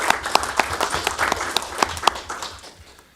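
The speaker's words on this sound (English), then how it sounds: "Round of applause, I think, for Rob." Scattered applause at a fire and rescue authority meeting, a small group clapping with distinct individual claps that gradually thin out and fade.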